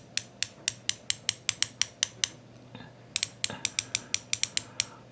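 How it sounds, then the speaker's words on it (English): The rotating bezel of a SeL MK1.5 Omnidiver dive watch ratchets in crisp, evenly spaced clicks, two quick runs of about a dozen sharp ticks each, close and clear with a short pause between. "We have the same crazy bezel action."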